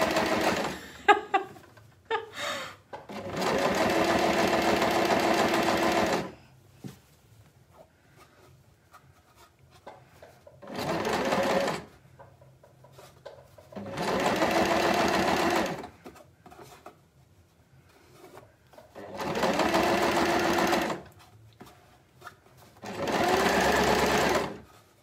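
A sewing machine stitches fabric for a shopping basket bag while its thread tension is acting up, running in five loud, steady bursts of rapid mechanical whirring separated by quiet gaps with faint handling noises, close by and without talk.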